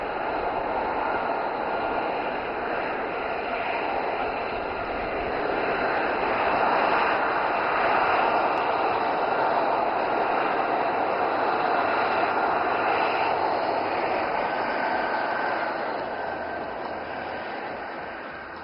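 An aircraft landing at the Aero India 2025 air show at Yelahanka Air Force Station: a broad sustained jet roar that swells in the middle and slowly fades, heard from a distance with crowd ambience.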